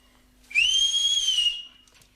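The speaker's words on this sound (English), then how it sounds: "if you can't learn to do a quiet whistle, we won't have you at all." A person whistles one sustained, slightly rising note, clear and close, lasting about a second before fading, with no talk around it.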